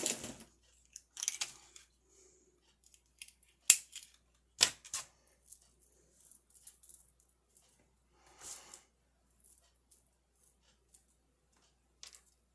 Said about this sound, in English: so I'm going to cut that. Wherever did my scissors go?